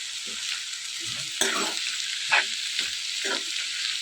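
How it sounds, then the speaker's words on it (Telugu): Amaranth leaves with salt and turmeric fry in a pan, a continuous hiss broken by several scraping stirs and soft knocks of a spatula, close and moderately loud. "కొద్దిగా పసుపు కూడా వేసుకుని ఇదంతా బాగా ఫ్రై చేసుకోవాలి"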